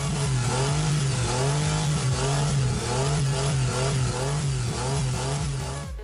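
The engine of a homemade Lamborghini replica revs loudly and steadily with a pulsing, throaty drone that rises and falls slightly, close by and heard alone.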